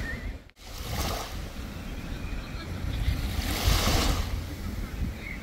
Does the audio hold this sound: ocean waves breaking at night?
yes